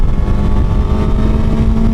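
A Suzuki GSX-S 1000 motorcycle pulls hard in a roll-on on the highway, its engine a steady, loud, rising drone with heavy wind rumble and no talk.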